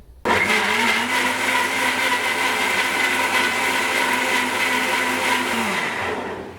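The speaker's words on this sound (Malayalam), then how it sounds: "ഇനി മിക്സിയുടെ ജാറടച്ച് നന്നായി ഇതൊന്ന് അടിച്ചെടുക്കാം" Mixer grinder jar whirring hard as it blends a healthy mango smoothie with no added sugar, a loud steady motor roar starting abruptly and holding for about six seconds before winding down.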